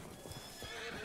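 Faint video game hoofbeats clip-clop briefly in Red Dead Redemption 2, with a short whinny from a horse in the background. Quiet and distant, with no talking.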